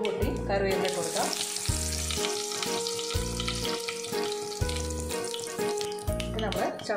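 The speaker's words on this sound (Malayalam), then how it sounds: "കടുക് പൊട്ടി കറിവേപ്പില കൊടുക്കാം." Mustard seeds and curry leaves fry in hot coconut oil for a Kerala jackfruit-seed and mango stir-fry, a continuous crackling sizzle heard under steady background music.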